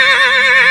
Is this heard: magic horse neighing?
yes